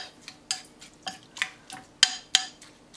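A utensil scraping and clinking against a bowl while stirring in coconut shavings, a quick series of stirring strokes, about nine distinct taps at a steady rhythm, close by.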